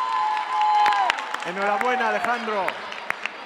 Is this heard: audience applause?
yes